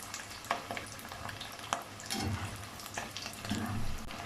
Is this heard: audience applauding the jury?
no